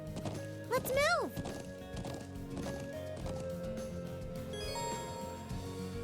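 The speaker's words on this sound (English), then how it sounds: "And a horse riding tutorial" Horse hooves clip-clop at a steady riding pace in The Legend of Heroes: Trails of Cold Steel, with a short horse whinny early on and game music and tones playing underneath.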